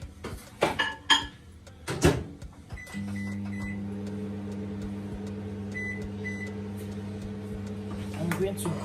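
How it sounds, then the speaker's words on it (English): A microwave oven melting butter for lobster tails starts with clinks and clunks of dishes as it is loaded, then settles into a steady, loud hum that runs unbroken, with a few faint higher beeps or rattles over it. "I'm going to put the butter in the microwave for until it melts."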